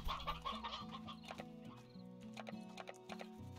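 Chickens cluck in the game Slime Rancher over a steady musical backdrop, with several short, close clucks scattered through a few seconds.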